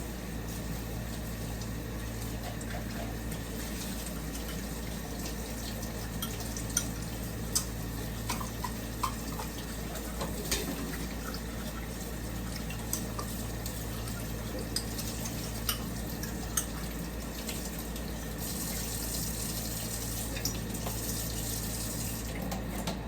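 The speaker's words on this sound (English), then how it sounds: "Okay, so I'm gonna pour you a drink." Liquid pours continuously into a glass, a faint steady trickling stream heard up close for the whole stretch with no talk.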